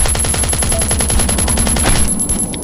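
An M4 assault rifle fires rapid automatic bursts in a survival shooter video game. The rhythmic rattle is loud and close, with no talk over it.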